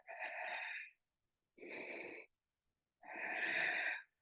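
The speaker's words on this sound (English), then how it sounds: "Full breath." Three deep breaths taken during a yoga low-lunge sequence, each a long, steady airy inhale or exhale of about a second, separated by short silences and heard close up with nobody speaking.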